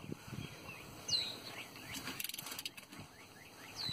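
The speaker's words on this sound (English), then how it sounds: "we're going to take our ratchet and tighten it" A ratchet tightening the differential fill plug on a Willys MB jeep, a quick run of close metallic clicks midway, with faint birds chirping outdoors.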